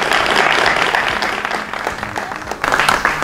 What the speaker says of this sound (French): qui n'est pas là, mais on applaudit pour elle.